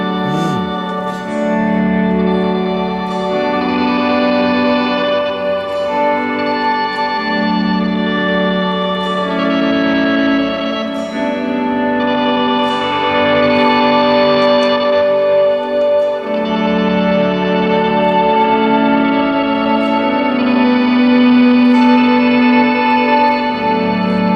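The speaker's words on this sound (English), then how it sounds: "In tape mode here, the modifier gives you up to 2 octaves up or down." A guitar plays through a Chase Bliss effects pedal in tape mode, shifting up to two octaves, and its notes bend and shift in pitch with a wobbly, tape-like warble. The tones are sustained and layered, with no talking.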